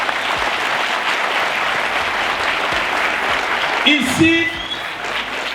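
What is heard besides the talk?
audience applauding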